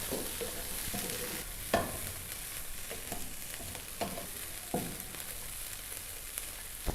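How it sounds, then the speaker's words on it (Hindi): Chopped capsicum fries on a low flame, a soft continuous sizzle with the occasional scrape and tap of a stirring spoon against the pan, fairly quiet and close. "शिमला मिर्च को हमने 1 मिनट तक भून लिया है।"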